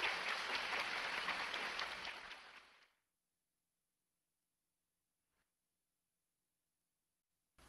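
Loud, dense audience applause at a lecture event fills the first three seconds, then fades quickly into near silence.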